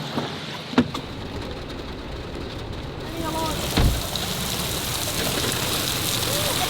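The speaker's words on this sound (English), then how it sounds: "It is raining a lot." A heavy downpour in Ho Chi Minh City gives a steady, dense hiss of rain that swells slightly partway through, with a couple of brief nearby knocks.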